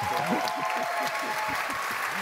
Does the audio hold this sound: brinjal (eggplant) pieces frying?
no